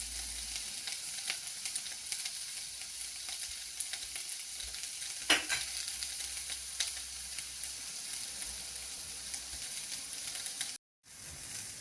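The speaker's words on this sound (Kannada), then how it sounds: "ಈಗ ಇದು ಫ್ರೈ ಆಗಿದೆ" Turmeric and cumin seeds fry in a pan with a steady, close, even sizzle, punctuated by a brief stirring scrape, with no talking.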